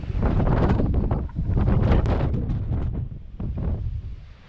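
Strong wind roaring over a sea cliff top on the Anglesey coastal path, a loud, continuous buffeting that batters the microphone in heavy gusts with brief dips, and no voices.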